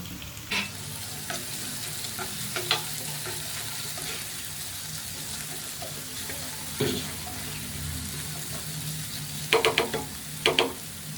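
Chicken frying with added tomato sizzles in a pan, a steady soft crackle with occasional clinks and scrapes of stirring, close and fairly quiet.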